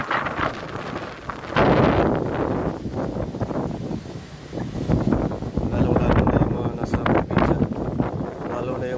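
Heavy typhoon wind buffets the microphone in rough, surging gusts in Parañaque, with a voice faintly audible beneath the roar.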